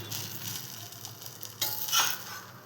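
Food cooking in a generous pour of ghee, a soft, close sizzle with faint spatula movement, swelling briefly louder near the end.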